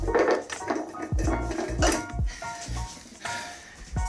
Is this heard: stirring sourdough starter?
yes